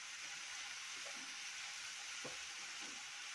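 Garlic frying in a pan for a cow's trotters dish, a faint, steady sizzle with a few soft stirring touches, no voices.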